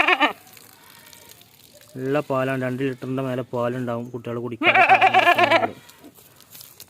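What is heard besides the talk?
goat bleating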